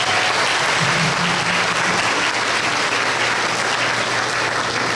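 A large audience bursts into steady, dense applause at a 2019 show in Tomé-Açu marking 90 years of Japanese immigration, welcoming Mr. Tsunetoshi Watanabe from Brasília; the clapping stays loud and even throughout, with a faint low hum beneath.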